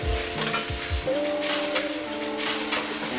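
Paste frying in hot coconut oil in a pan, a steady, close sizzle with stirring scrapes throughout and a thin tone running underneath.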